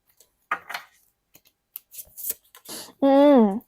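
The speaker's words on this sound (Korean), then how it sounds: "그럼 카드 조금 더 뽑아볼게요." Tarot cards are drawn and handled in a quiet room with several soft scrapes and flicks scattered across the moment, ending with a brief spoken sound.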